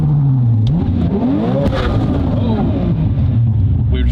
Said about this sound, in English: I gotta warm the tires up, I think.